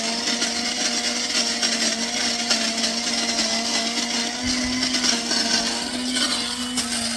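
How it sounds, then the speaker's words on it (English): An electric coffee grinder grinds coffee beans in a steady, loud, continuous whir for about seven seconds, its pitch shifting slightly partway through, with no talking. "coffee grind time."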